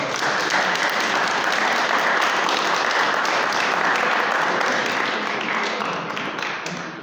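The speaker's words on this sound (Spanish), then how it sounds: "Vamos a darle un aplauso bien" Sustained audience applause for a lecturer in Tlalnepantla, a thick, even roar of many hands clapping that holds steady and loud for several seconds before easing slightly at the end.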